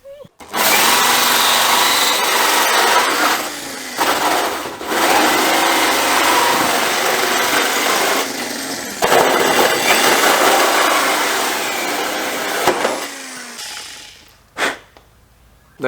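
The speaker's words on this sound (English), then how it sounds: "now I'm going to go through and drill a big hole" A power drill bores a large hole through the body of a D22 Nissan Navara for a snorkel install. The cutting is loud and close, running in long grinding stretches broken by brief pauses, then ending in a few short bursts.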